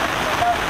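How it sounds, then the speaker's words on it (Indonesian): Rain falls during an outdoor Indonesian Armed Forces anniversary ceremony at the Kepulauan Selayar district military command, the first rain after months of heat, as a steady, even hiss of downpour with a voice faintly underneath. "pada cuaca diguyur hujan pertama setelah sekian minggu dan sekian bulan"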